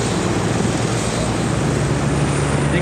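A SAMU medical helicopter roars loudly and steadily nearby at an air show in Cholet, France, its engine and rotor noise a dense continuous drone as it lifts off.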